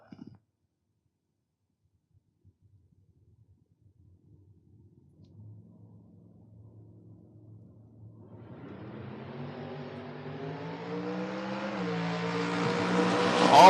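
Drag race run between a pickup and a Corvette: after near silence, a distant engine rumble grows steadily louder and higher as the vehicles accelerate down the strip, peaking loudly at the end.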